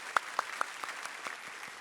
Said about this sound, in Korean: 우리 큰 박수로 이분들 축복합니다